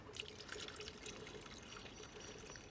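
Water pours from a bucket into plant pots, a faint, continuous trickling and bubbling with small drips, heard close but quiet throughout.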